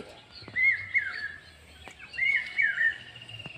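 Young flying-breed pigeon chicks give two thin, high peeping calls about two seconds apart, close and clear over faint background noise.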